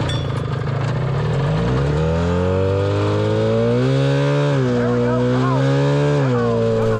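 A Polaris snowmobile-quad engine running steadily nearby, its buzzing, chainsaw-like drone rising and dipping in pitch as it revs, with people talking over it.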